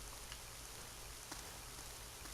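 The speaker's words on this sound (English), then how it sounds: "when did it start raining?" Steady rain hisses in Tales of Legendia, a continuous, even downpour with no voices and nothing else breaking through.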